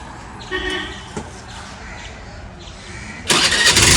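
A used motorcycle with about 36,000 km on it is started at a used-bike lot in Kerala; brief clicks and cranking give way to the engine catching with a sudden loud, steady roar near the end.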